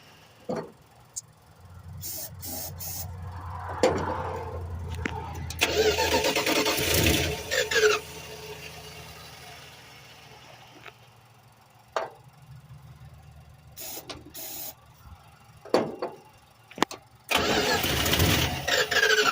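The engine of a 1986 Dodge W150 pickup cranks in several separate bursts while the mechanical fuel pump is primed, with intermittent clunks and quieter gaps between attempts.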